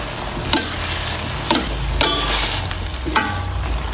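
Eggplant cubes and bitter gourd being stirred in a pan for pinakbet, with a steady sizzle underneath and four distinct scraping stir strokes spaced about a second apart.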